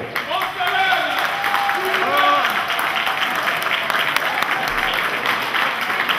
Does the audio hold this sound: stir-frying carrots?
no